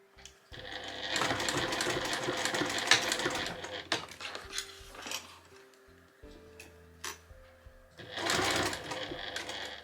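Sewing machine stitching a second seam about 5 mm from the first along a shoulder strap, running in bursts of steady rapid whirring with short pauses and faint handling clicks between runs.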